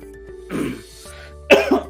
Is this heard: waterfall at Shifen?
no